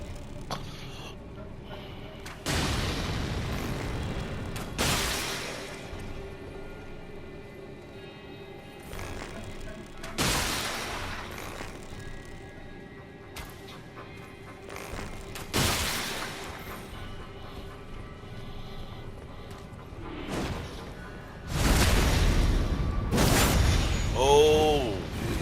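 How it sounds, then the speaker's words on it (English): Enemy magic attacks in Elden Ring at Siofra River Bank, several loud whooshing bursts and booming impacts spaced a few seconds apart, some with shimmering tails, over quieter ambient game sound, with occasional talk. "he firing magic at me"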